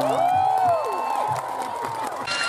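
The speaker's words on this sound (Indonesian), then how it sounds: "Ayo, mana tepuk tangannya?" An audience cheering and shouting, with high excited voices and whoops rising over scattered clapping, brief and moderately loud.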